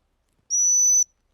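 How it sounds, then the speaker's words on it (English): A dog training stop whistle gives one steady, shrill, high-pitched blast of about half a second. It sounds alone against silence. "And therefore, we then get the stop whistle."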